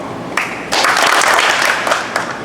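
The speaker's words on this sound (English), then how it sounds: "y'all give him 2 claps" A football team at a Port Allen Pels boot camp breaks into a burst of group clapping and applause, loud and close, rising after a brief first smack and continuing as a dense crowd of hands for about two seconds.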